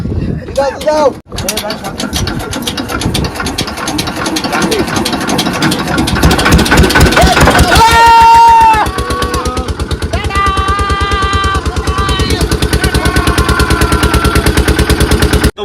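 A boat engine sputters and catches, then runs with a loud, rapid mechanical chugging on the water on a stormy night, while people talk and call out over the racket.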